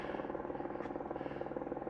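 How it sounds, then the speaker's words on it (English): A helicopter drones steadily over an outdoor fair, its rotor buzz a continuous mid-level hum with faint regular pulsing throughout. "I think that helicopter is literally keeping an eye on the smoke from that fire"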